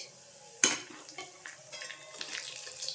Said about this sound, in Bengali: এবার এখানে একটু গোটা গরম মশলা দিয়ে দেবো, এলাচ, লবঙ্গ, দারচিনি, তেজপাতা, আর একটু জিরে আর একটু গোলমরিচ।